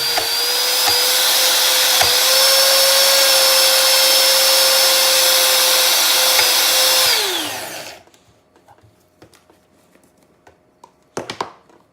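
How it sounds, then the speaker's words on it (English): A Nutribullet blender grinding almonds into almond butter, a loud steady high-pitched motor whine for about seven seconds that winds down and stops, followed by quiet clicks and clatter of the cup being handled. "you just want to give the Nutribullet a chance to get itself moving and to, of course, stay cool."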